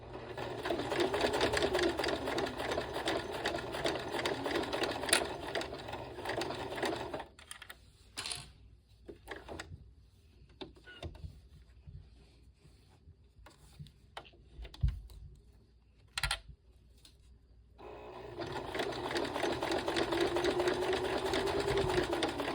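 A sewing machine stitching a fabric sling runs in a steady, close mechanical whir. It stops for a quiet stretch with a few clicks and handling sounds, then resumes at full speed.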